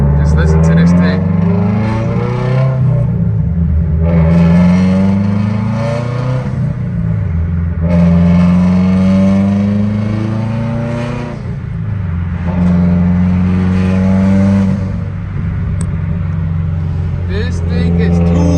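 Subaru STI fitted with a catless downpipe and exhaust, revving hard and loud up close in repeated rising and falling pulls through the gears, with a voice briefly heard over the engine.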